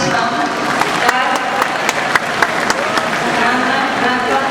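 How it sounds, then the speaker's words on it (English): Audience at the 64th Ateneo de Davao high school graduation breaks into sustained applause, dense clapping from a large crowd with a few sharper claps standing out, under a faint murmur. "Give them a big round of applause."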